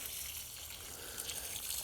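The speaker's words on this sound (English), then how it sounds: "The next step is to water them in so that the roots get good soil contact." Water pours steadily onto newly planted squash in a garden, a soft continuous hiss and splash lasting the whole brief moment, with no talking.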